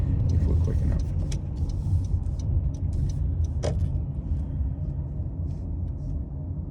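A car drives along I-70 through Glenwood Canyon with a steady low road rumble from inside the cabin, and faint small clicks and rattles scattered over it.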